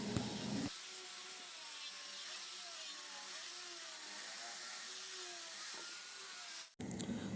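Someone hand-sands the side of a wooden dining chair part with a steady, continuous abrasive hiss, close by and without talk, ending in a brief clatter.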